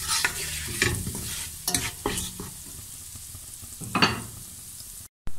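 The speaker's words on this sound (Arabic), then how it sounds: "هلا بعد ما ساحوا رح احمص البهارات حتى تطلع ريحتهم" Spices toast in a pot with melted fat ahead of the meat for a pumpkin and chickpea stew, giving a soft sizzle broken by several sharp stirring scrapes of a utensil against the pot, with no talking.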